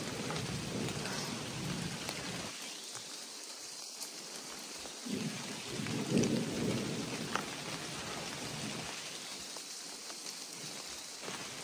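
Rain falling outdoors in the Balkan mountains with rolling thunder, a steady hiss of rain broken by low, distant rumbles that swell and fade twice.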